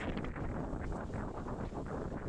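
Steady, heavy wind on Boracay by a choppy sea, roaring and buffeting throughout, broad and constant with a low rumble, like gusts hitting the microphone outdoors.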